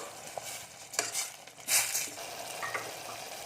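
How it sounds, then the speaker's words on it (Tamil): Soft sizzling of tomatoes sautéing in a pan with brinjal, with occasional stirring scrapes, quiet and close, with no talking. "இப்போ கொஞ்ச நேரம் அந்த தக்காளி வதங்கட்டும்"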